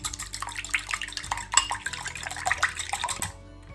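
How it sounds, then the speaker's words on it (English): Whisk clinks against a bowl as a mixture with one to two tablespoons of water is beaten for gluten-free sweet and sour chicken; quick, irregular metallic taps and scrapes, close and fairly steady, with no talking. "Give it a whisk."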